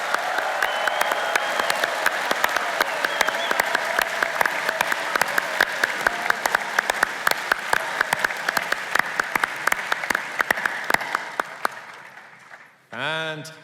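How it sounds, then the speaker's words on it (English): A large audience at a high school science competition applauds loudly and steadily with scattered cheers, fading out at the end as a voice starts speaking. "Please cheer for our two teams"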